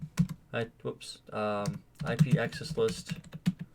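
Quick bursts of typing on a computer keyboard, close and crisp, interleaved with someone speaking.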